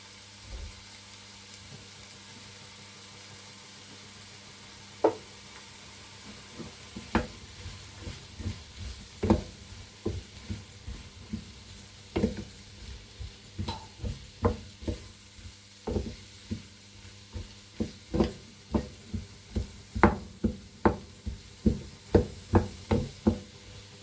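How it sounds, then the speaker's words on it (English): Onions and seasoning sautéing lightly in a pan for a homemade fish pie, a soft steady sizzle under a series of sharp spoon knocks and stirring taps that grow more frequent toward the end. "So we'll just let that saute lightly."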